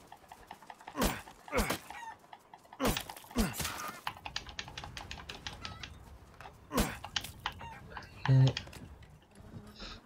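Chickens cluck in the Resident Evil Village video game, with several short, scattered bird calls and clucks standing out over a busy backdrop of clicking and tapping sounds.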